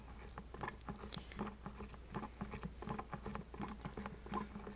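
Hand pump forcing gear oil into the lower unit of a Johnson/Evinrude outboard motor, a steady series of soft rhythmic squishing, clicking strokes repeating roughly every half second, close and quiet with no talk.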